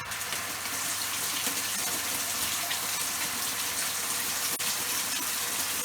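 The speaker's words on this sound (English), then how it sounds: "There you go, silent pump, pumping like a good one." A workshop water pump pushes a strong steady flow, heard as a constant close rushing gush of water with a faint low hum beneath, unbroken throughout.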